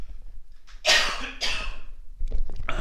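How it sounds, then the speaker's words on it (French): A couple of harsh coughs close to the microphone, separated by a short pause, followed by a faint breath and small rustling noises. "Excusez-moi, ça va tousser."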